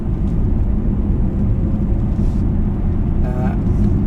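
612 hp Mercedes E63S 4-Matic estate with a 9-speed gearbox accelerating hard on a wet day, a loud, steady, dense engine roar heard from inside the cabin with a short gearshift break near the end.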